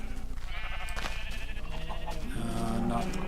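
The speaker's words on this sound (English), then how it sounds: "Here's the sheep up close." Sheep bleating in Minecraft, the blocky game's livestock calls repeating close up over a steady continuous background, several bleats in a row with no talk.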